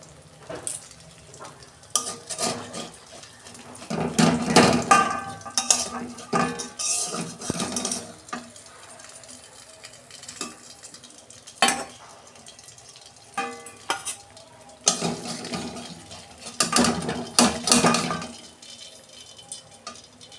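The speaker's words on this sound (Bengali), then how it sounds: "দেখুন বন্ধুরা, আমি আর 3টে মাছ ভেজে দিচ্ছি এইভাবে।" Pabda fish frying in hot oil in a pan, a steady sizzle broken by repeated clatters of a spatula and metal utensils against the pan, with no one speaking.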